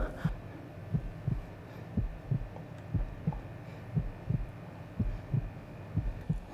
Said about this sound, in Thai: น่าจะเสียงหัวใจเราอะ